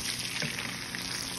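Potatoes and bacon fry in oil with a steady, dense sizzle, close and unbroken through the short stretch, with no voices over it.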